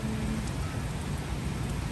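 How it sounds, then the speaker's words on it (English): Steady rain falls outdoors on a gray day in Atlanta, Georgia, a continuous dense hiss of drops on surfaces with no pauses, fairly close and even in loudness throughout, with no voices. "It's supposed to rain all day today."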